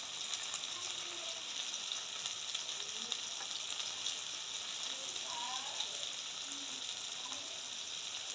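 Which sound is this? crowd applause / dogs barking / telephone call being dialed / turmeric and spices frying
turmeric and spices frying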